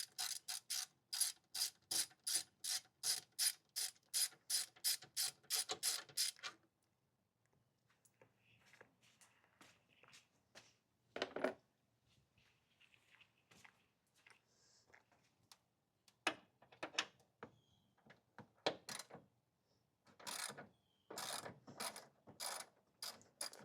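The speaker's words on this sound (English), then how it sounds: "Get your 10 mil. You're gonna loosen this one right here, and then the bolt behind this little sheath right here." A ratchet wrench loosens 10 mm bolts on a drop-in air filter: a fast run of crisp clicks, then quiet handling, then more bursts of ratcheting, close and clear.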